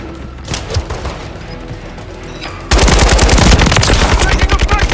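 Loud, dense automatic gunfire in the video game Call of Duty Modern Warfare, bursting in abruptly midway after quieter scattered shots and continuing as rapid, sustained firing.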